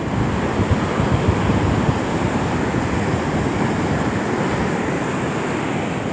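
Sea waves wash onto a shore strewn with plastic, fallen coconuts and palm fronds, making a dense, steady rush of surf close by, mixed with wind buffeting the microphone and no talking.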